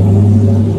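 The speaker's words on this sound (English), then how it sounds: "Corvette went by" Chevrolet Corvette passing close by: a brief, loud, steady low engine rumble with a strong droning hum throughout.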